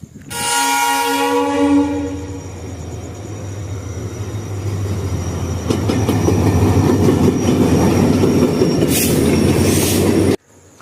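A passenger train on the Ledo to Guwahati route sounds a long, loud horn blast up close, then rolls on with a steady rumble and clattering wheels that builds toward the end before cutting off.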